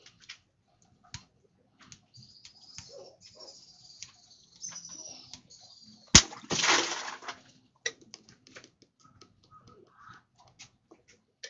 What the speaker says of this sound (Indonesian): Teknik memukul botol bisa pecah itu tidak hanya terjadi pada botol ya